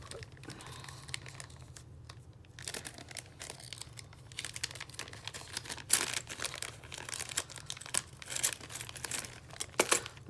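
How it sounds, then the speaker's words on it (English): A paper clip decorated with little floral beads and buttons is pulled from a crinkly plastic packet, giving irregular bursts of crackling and rustling that grow busier toward the end, heard close up over a low background hum. "Let me pull the paper clip."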